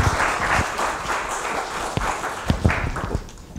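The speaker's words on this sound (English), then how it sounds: "please give him a round of applause" Audience applause rings out in a lecture hall welcoming a speaker, a brief burst of clapping with a few sharper individual claps standing out near the end.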